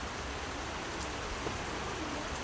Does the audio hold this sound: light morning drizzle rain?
yes